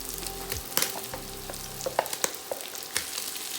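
Rice is stir-fried in a hot pan with garlic and crispy pork, a steady sizzle broken by sharp scraping and clanking of a utensil against the pan, close and alone without talk.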